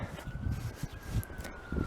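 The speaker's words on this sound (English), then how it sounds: "hear a siren in the distance" A faint, steady siren wails far off, holding a thin continuous tone beneath low rumbling outdoor noise and occasional rustles.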